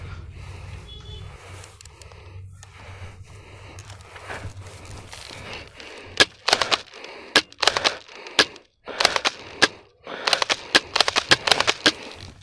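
Spring-powered airsoft gun shots in an outdoor skirmish game, a series of sharp snapping cracks in irregular bursts after a quieter stretch of rustling, fairly close and loud.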